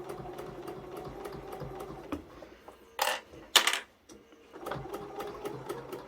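An L890 combination sewing machine runs a cover stitch through plaid tea-towel fabric, a steady mechanical whirr that stops and restarts, with a few sharp handling clatters in the middle and no talking.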